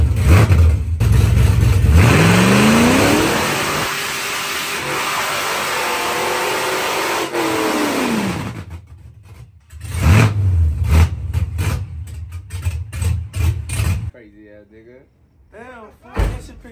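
A loud truck engine revs and surges in rising, sustained pushes during a burnout, with door-like slams and knocks, quieter stretches and voices toward the end.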